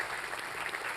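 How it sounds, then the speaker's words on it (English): Brief, even burst of audience applause at an award ceremony, moderately loud clapping with no pauses. "So can we give them a big round of applause,"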